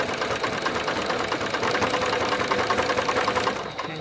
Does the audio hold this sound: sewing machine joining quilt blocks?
yes